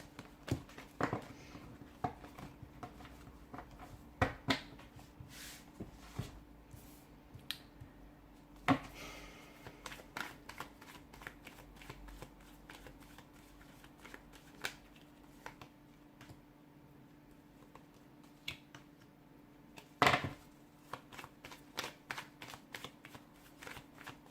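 Tarot cards are shuffled and handled up close, with soft repeated riffles, flicks and occasional sharper snaps spread over a quiet stretch, and no one speaks.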